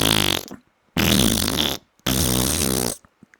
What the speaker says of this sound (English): He tried to keep those farts subtle,